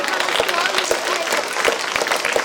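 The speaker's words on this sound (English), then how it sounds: "Clap your hands." Children clap their hands together in a quick, rhythmic patter while a voice talks over them in a school hall.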